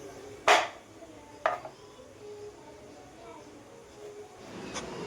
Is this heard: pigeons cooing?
no